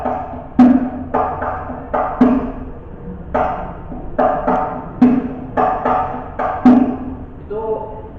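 A rebana hadroh frame drum plays a slow basic beat pattern, mixing deep booming strokes with sharper slaps in an even, unhurried rhythm. The drum is heard up close and alone.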